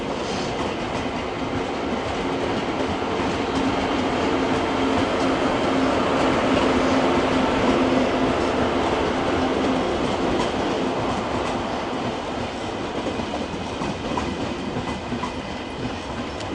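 A train rolls into München Hauptbahnhof with a loud, continuous rumble and rail noise, steady wheel clatter and a faint squeal holding close throughout, with no voices.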